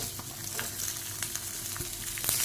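Chopped onions sizzling and crackling in hot oil for a Kerala-style chutney, with occasional sharp scrapes of stirring over a steady frying hiss.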